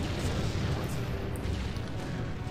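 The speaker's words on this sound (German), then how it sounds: "Die Paladin-Kanonen." Paladin cannons in the strategy game Empire Earth firing during a battle, a dense low rumble of artillery booms blending into a continuous heavy roar, fairly loud and close.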